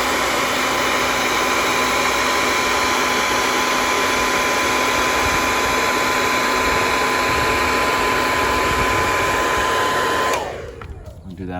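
A heat gun warms tint film being applied to the tail lights of a 2019 Dodge Challenger R/T, blowing as a loud steady whine with a constant tone for about ten seconds before it switches off and spins down.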